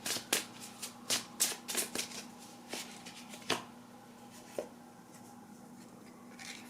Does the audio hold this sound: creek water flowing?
no